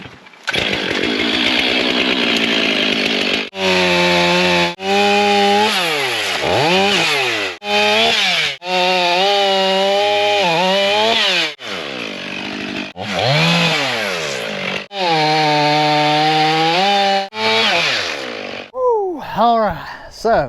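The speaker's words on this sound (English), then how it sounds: "Alright, so got those logs cut up." A chainsaw cuts up logs and stumps on a muddy road-building site, its engine droning loudly and continuously, revving up and down in repeated surges between cuts over about twenty seconds.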